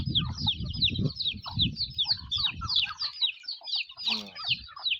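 Hens and a rooster cluck and squawk close by in a stream of busy, overlapping calls on a small family chicken-raising yard, with a louder squawk near the end.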